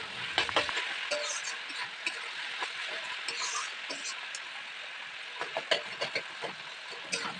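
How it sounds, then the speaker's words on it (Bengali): Spices with ground cumin frying in a pan for a bottle gourd dish, a bright steady sizzle broken by repeated scraping stirs of a spatula, close and fairly loud. "ভালো করে ভেজে নেব মশলাটা"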